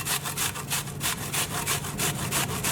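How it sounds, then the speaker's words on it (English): Half a brown onion grated straight into beef mince, a close, rhythmic rasping scrape with quick regular back-and-forth strokes, steady and loud, no talking. "I'm just going to get half of a brown onion and we're just going to grate it straight in"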